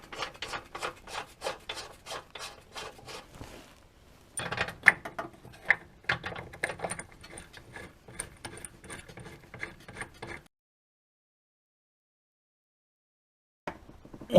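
Rapid ratchet clicks tightening engine mount bolts on a car, a Powerflex-type mount setup, run in quick bursts with short pauses for about ten seconds, then silence and a faint final click.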